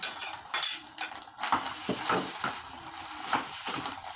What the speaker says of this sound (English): The next step is we add the rice into the frying pan.